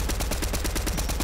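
Rapid automatic gunfire in the Fortnite video game, a loud, even burst of about a dozen shots in just over a second, with no speech over it.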